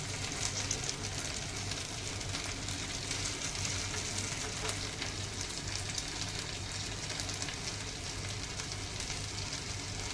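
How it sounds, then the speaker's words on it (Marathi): Malai chicken tikka pieces frying in a pan, heard as a steady, even sizzle with a low background hum and no talk. "आता हे बघा इथे मी दुसरा माझा चिकनचा राऊंड आहे तो फ्राय करायला ठेवला आहे"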